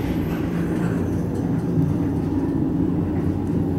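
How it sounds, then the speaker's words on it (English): Elevator thyristor drive at the Marriott Marquis Atlanta, heard as a steady low-pitched hum and rumble that fills the car without a break, with no talking. "You hear that thyristor drive?"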